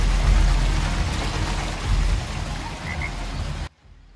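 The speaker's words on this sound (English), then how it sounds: "If you go near the water here, you can even hear little frogs." Frogs croak softly near water in the video game Overwatch 2, on the Aatlis map, over a dense, watery ambient wash, with a few faint chirping calls before the sound cuts off abruptly.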